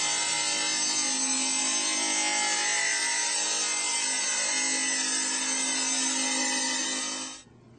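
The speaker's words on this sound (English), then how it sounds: "Using a table saw, rip the riser to the proper height." A table saw rips a new wooden stair riser to height in a wood staircase workshop, a loud steady whine of blade through wood holding unbroken for about seven seconds before cutting off and spinning down.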